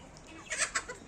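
Chickens, including two bearded young roosters and a small black hen, let out a couple of quick, fairly close clucks in a short burst.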